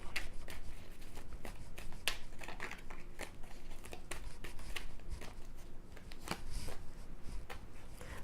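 Tarot cards being shuffled and drawn by hand, a continuous close riffle and flutter of cards with crisp snaps and slides, no talk.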